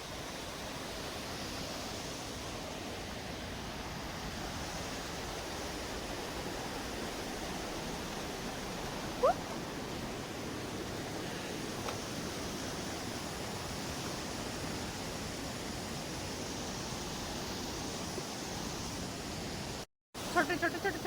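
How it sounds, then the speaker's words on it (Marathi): Small waterfalls at Khadakwasla dam give a continuous, even rush of falling water, heard from some distance and fairly soft, with faint voices now and then. "छोटे छोटे छोटे छोटे इथं धबधबे"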